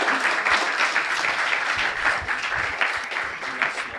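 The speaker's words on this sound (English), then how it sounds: "Give him a round of applause." A college debate audience gives sustained applause: dense, even clapping from many hands fills the room for several seconds without a break.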